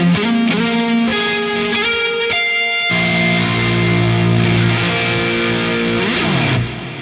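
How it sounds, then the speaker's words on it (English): Electric guitar played through an Ampero II Stomp into a real amp with a boosted solo tone, distorted sustained notes ringing out with delay and reverb trails, loud and alone with no talking. "Let's also see if we can boost this up to a solo tone and add in that delay and reverb again."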